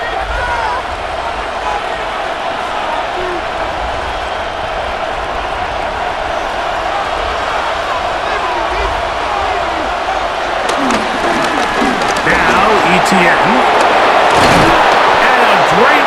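Stadium crowd roaring and cheering in Madden NFL 26 during a simulated Jaguars versus Houston Texans football game, a steady loud wash of noise that swells louder near the end, with commentary voices over it.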